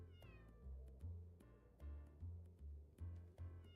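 A cat meows repeatedly in the video game Radiata Stories, about five clear, close meows in a steady rhythm over quiet background game sound.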